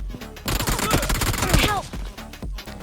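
A P90 submachine gun fires in BGMI PUBG Mobile gameplay, a rapid close burst of crackling shots that tails off after about two seconds, with a few later pops and a voice mixed in.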